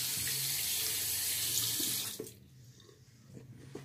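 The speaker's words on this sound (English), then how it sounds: "rinse off the fingers and dry them off so I don't drop my razor again" Tap water runs into a sink as fingers are rinsed beneath it, a steady close splashing hiss that cuts off about halfway, leaving quiet room sound with faint handling noises.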